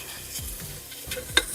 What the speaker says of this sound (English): gonna let that bacon sizzle in there a little bit